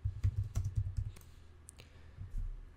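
Typing on a computer keyboard, a quick burst of soft close-up key clicks followed by a few scattered taps and a pause, with no talking.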